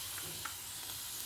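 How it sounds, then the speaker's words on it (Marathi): Garlic frying in a hot pan gives off a steady, dense sizzle and hiss, close and continuous, with a few faint crackles and no voices. "लसूण थोडंसं लाल होऊ देऊ आपण"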